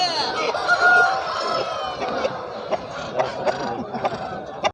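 Roosters at the Kavundapadi rooster market in Tamil Nadu, a loud drawn-out crow up close followed by clucking and other birds, with the busy murmur of a crowd and people talking around them.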